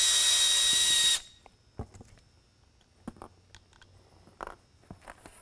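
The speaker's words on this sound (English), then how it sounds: "grab the trusty Makita, loosen the front screws out" A Makita power drill loosens the front screws of a Whelen 500 V-Series Super-LED lighthead: one loud, close whir of about a second, then quiet clicks and handling noises of the screws and housing.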